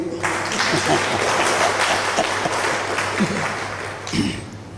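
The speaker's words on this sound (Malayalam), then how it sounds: "ഗായക സംഘത്തിനൊരു നല്ല കയ്യടി കൊടുത്തേ" A church congregation applauds the choir during a Malayalam retreat service, a steady broadband wash of clapping lasting several seconds with faint voices mixed in and a brief louder swell near the end.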